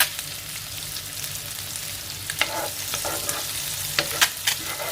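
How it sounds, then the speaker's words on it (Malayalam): Boiled eggs, laid face down, fry in hot masala oil with a continuous close sizzle and a few sharper pops and spatters toward the end, with no voices. "അപ്പം ഞാനിതെല്ലാം ഇട്ട് കൊടുത്ത് കമഴ്ത്തി ഇട്ട് കൊടുത്തിട്ടുണ്ട് എണ്ണയിലേക്ക്"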